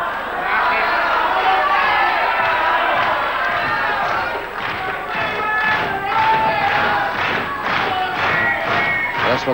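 A boxing match crowd roars and shouts in a big arena, a dense, loud, sustained wash of voices with rising cheers and rhythmic bursts toward the end.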